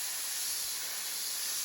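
An airbrush sprays yellow model paint thinned with Mr. Color Leveling Thinner, giving a steady, loud, unbroken hiss close by.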